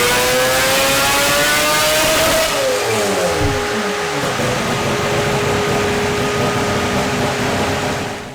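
Toyota Supra engine revving hard on a dyno, a loud, close, sustained high-pitched wail that climbs, then drops sharply as the revs fall away into a lower, rough drone.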